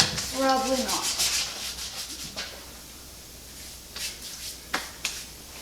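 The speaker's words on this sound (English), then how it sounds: "Just following up with some 220 on the trim." Short strokes of 220-grit sandpaper rubbing over the wooden trim of a hall coat tree, a few quiet scratchy passes. A brief voice comes first, then scattered light scuffs.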